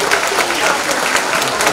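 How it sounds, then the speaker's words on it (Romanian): An audience at the Euro Dance 2024 dance competition claps loudly and steadily, a dense, close wash of applause throughout the short moment. "Să ne aplaudăm pe toți!"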